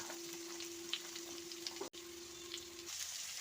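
Green chillies and onions sizzle steadily in a pan over a low flame, a soft continuous frying hiss with faint crackles, close by and without talk.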